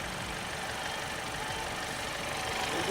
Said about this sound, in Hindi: साउंड ही चेंज हो गई इंजन की पूरी।